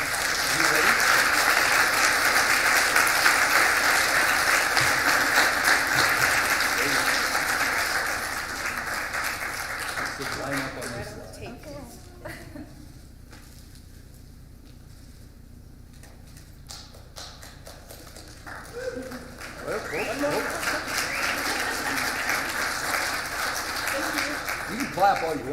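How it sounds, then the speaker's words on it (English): Audience at an arts award ceremony claps loudly and continuously for about ten seconds, fades to near quiet, then a second burst of applause rises again. "You can clap all you want."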